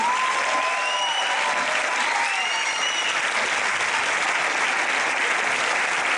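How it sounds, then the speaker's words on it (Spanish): Steady, loud applause from a school audience for the dancers after a theatre play at a secondary school, sustained clapping filling the hall with a faint whistle or two over it. "Tots aplaudim a la Lavínia Fernández, la Lara Sola i la Cèlia Cama"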